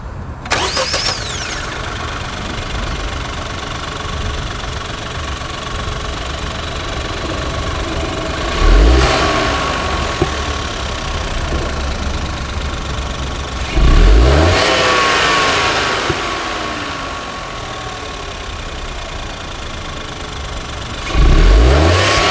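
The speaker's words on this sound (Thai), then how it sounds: "มาฟังเสียงเครื่องยนต์กัน" Honda City 1.0 VTEC turbo three-cylinder with CVT starting up, then idling and revved in three sharp bursts spaced several seconds apart, loud and close with no talking.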